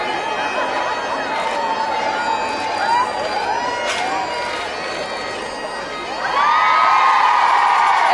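A large crowd outside Canongate Kirk cheers and shouts continuously at a royal arrival, with high-pitched voices and whoops swelling louder toward the end, under commentary.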